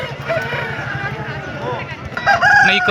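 A rooster crows at a busy Sunday hen market in Pileru, the call rising close and loud amid bustling chatter as people talk nearby.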